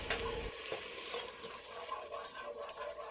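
Risotto being stirred in a pan, a faint, short stretch of soft sizzling with gentle spoon scraping and no talk.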